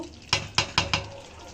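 Boiled mango for a sweet-sour mango pickle is stirred gently in a pot, four soft scraping strokes in quick succession, close by, then quiet.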